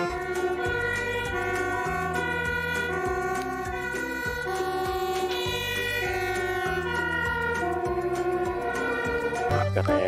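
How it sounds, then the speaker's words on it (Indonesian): A fire truck siren sounds in a steady, loud pattern of alternating tones repeating over a low rhythmic pulse, with no talk over it. "Mobil pemadam kebakaran."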